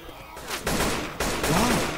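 Gunfire bursts from the zombie shooter game Left 4 Dead 2, close and loud with dense overlapping shots, mixed with game noise and a brief voice line.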